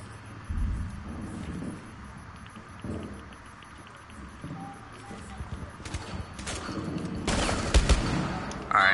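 Gunfire in a video game, including pistol shots, comes as scattered bursts and bangs over a rumbling background, with players talking at times.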